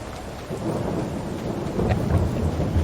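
Heavy rain and gusting wind roar without pause in a Farming Simulator 22 storm, a dense, loud wash of noise with a low rumble swelling near the end.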